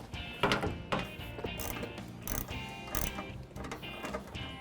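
Factory screws being removed from a vehicle fender, done before fitting LED lighted fender flares: close, busy mechanical clicking and ratcheting that runs steadily with several sharper clacks throughout.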